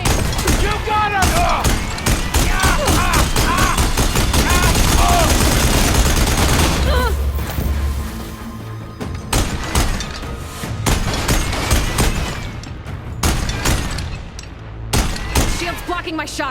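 Rapid gunfire comes from Quen soldiers in the video game Horizon Forbidden West, first a dense continuous barrage, then sharper separate bursts and shots with short pauses, loud and close, with voices shouting over the fight.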